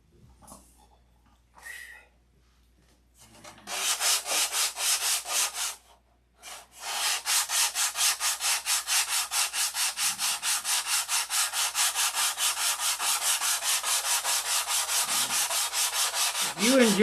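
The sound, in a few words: sanding wood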